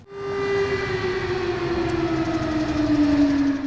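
An air raid alert siren in Dnipro, Ukraine, wails as one long sustained tone slowly falling in pitch, loud and steady with outdoor background rumble and no talk.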